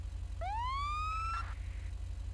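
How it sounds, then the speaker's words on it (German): A single police car siren from a video game rises in a quick upward sweep and holds a bright, steady wail for about a second before cutting off, over a constant low engine hum. "Wir haben auch ein leichtes Sirenen-Update."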